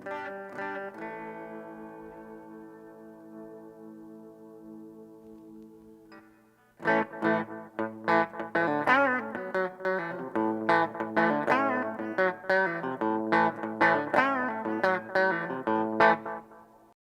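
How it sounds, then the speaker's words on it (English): A clean electric guitar through an Orange Tiny Terror amp with delay and reverb holds one ringing note, then plays a run of plucked notes that echo and linger with spacious reverb. "Let's go ahead and try just that delay and that reverb."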